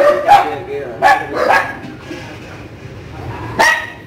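Several short puppy yips and barks come in bursts at an irregular pace, fairly close, with quiet pauses between them.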